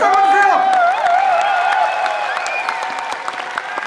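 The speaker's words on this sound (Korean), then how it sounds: "여러분 박수 한번 주세요." Crowd applause and cheering at a cheerleader charity concert, a sustained broad roar under a prominent sung or held vocal line and music, loud and continuous before gradually thinning out.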